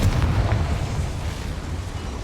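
A Confringo fire spell explodes in the Hogwarts Legacy video game, a deep rumbling boom with a sharp burst at the start that trails into a sustained low roar over about two seconds.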